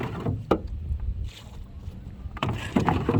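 A 1957 Mercury Mark 10 outboard motor, recently revived after sitting for 45 years, runs on a boat out on the water. Its uneven motor drone is mixed with wind buffeting and splashes.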